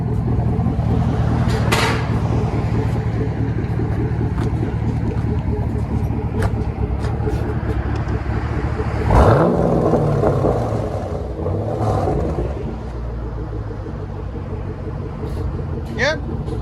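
A Chevy Camaro SS 6.2L V8 running without mufflers rumbles steadily up close, with a couple of brief blips of throttle and a few clicks, as people talk over the engine.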